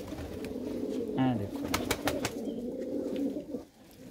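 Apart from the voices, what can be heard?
pigeons cooing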